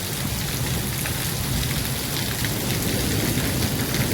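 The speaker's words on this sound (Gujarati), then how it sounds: "આ બાજુ જો છે કાંઈ વાડી ખેતરમાં લગભગ કાંઈ દેખાતું નથી, એવો વરસાદ છે." Heavy stormy rain with hail pours over farm fields in Bagasara, a dense, unbroken roar of drops hitting the ground that stays loud and constant throughout, with no voices.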